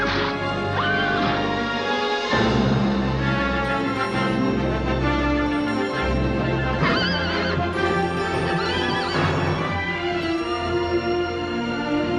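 A horse whinnies and neighs repeatedly in a dense, busy film soundtrack featuring a mythological winged horse carrying Perseus, with loud orchestral-style sound and crashing effects layered throughout.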